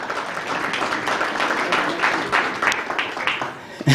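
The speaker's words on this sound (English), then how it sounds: "let's give him another big round of applause as he comes" Audience applause for a guest taking the stage at a technology skills event, a steady wash of clapping that fills the whole stretch evenly at moderate loudness.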